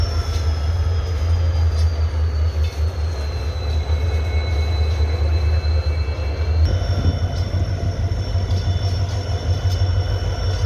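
A train rolls slowly over a newly built railway underpass bridge at Rani Bazar in Bikaner, producing a steady, loud low rumble with faint high wheel squeal that carries through the whole stretch.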